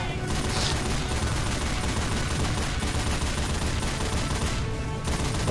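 A mounted machine gun turret in Left 4 Dead 2 fires in one unbroken, dense stream of automatic rounds. The roar stays loud and steady from start to finish, and voices talk beneath it.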